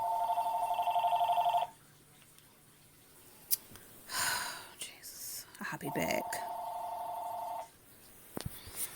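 A telephone rings nearby in two bursts of a trilling electronic tone, separated by a pause with a whispered remark and rustling.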